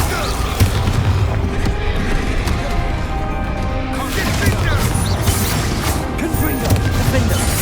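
Bombarda explosion spell cast in the Hogwarts Legacy video game, a loud blast amid dense continuous game combat noise with booming impacts and crashes throughout.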